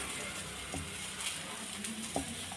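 Tomato, ginger and garlic masala sautéing in a pan for misal, a steady low sizzle with a few soft stirring scrapes, fairly quiet and close, no talking.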